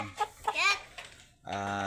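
Backyard chickens, including Rhode Island Red and broiler, cluck in a few short, close bursts, with a brief pause before a louder, sustained squawk-like call at the end.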